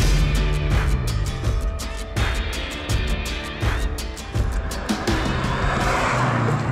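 Rally car with a 2-litre 16-valve turbo engine making 218 horsepower, heard loud from inside. The engine revs climb repeatedly through quick gear changes, each pull rising in pitch, then dropping sharply at the shift.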